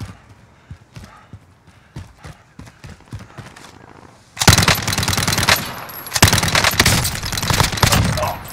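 Call of Duty Warzone gunfire erupting after a stretch of quieter sharp clicks and footsteps, then dense, loud automatic bursts that keep firing with short breaks.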